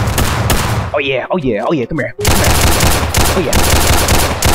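Rapid bursts of gunfire in a Roblox hood-style shooter game, loud and close, with a short gap where a player speaks briefly before the shooting resumes.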